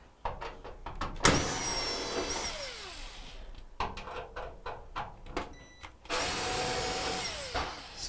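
A power driver whirs in short bursts and longer runs, loosening T20 Torx screws from the lid of a GE dryer, close up and fairly loud, with clicks between runs and no speech.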